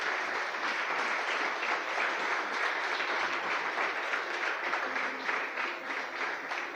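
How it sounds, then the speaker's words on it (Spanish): A church congregation applauding during a sermon, a continuous, even wash of many hands clapping at moderate volume, with no voices standing out. "Yo creo que Dios y Jesús se merecen un fuerte aplauso por esto"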